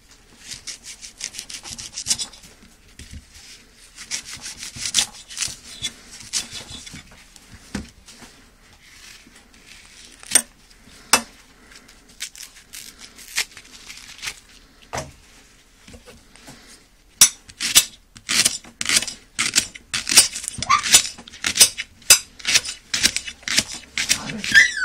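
A Minsheng kitchen knife, freshly steeled, slices through a leek on a board: bursts of crisp rasping cuts and taps, sparse at first, then a fast run of close, loud, rhythmic strokes.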